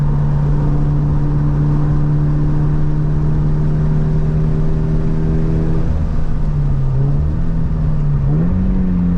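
Race car accelerating flat out on the track at Queensland Raceway, a steady loud engine drone held close and continuous, with a gearshift-like dip and rise near the end.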